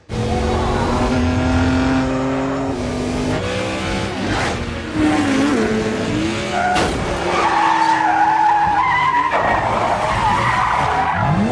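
Cars in the chase from the 007 film The Man with the Golden Gun skid and screech, with long loud tire squeals, engine revving and bumps sweeping past in a continuous frantic sequence with no voices.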